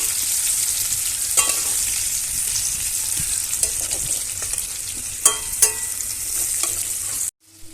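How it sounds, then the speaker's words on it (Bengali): Potatoes fry in hot oil in a wok with a loud, steady sizzle, broken by scraping clicks and clatters as they are stirred, before the sound cuts off abruptly. "যাক আগে আলুটা ভেজে নিই।"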